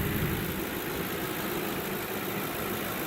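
A 2009 P71 car's engine runs at a steady, even rumble, close by and unbroken, with no talking over it.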